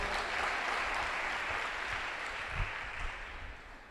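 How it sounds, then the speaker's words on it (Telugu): A church congregation claps hands together, a dense, continuous wash of applause at moderate distance that holds steady for about four seconds and then eases slightly. "కొట్టు చప్పట్లు ఒకసారి."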